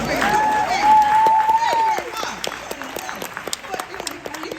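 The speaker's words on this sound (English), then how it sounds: "And you can applaud." An audience at an award ceremony for Jane Fonda breaks into applause and cheering over a speaker's voice, the clapping strongest at first and then thinning into scattered claps.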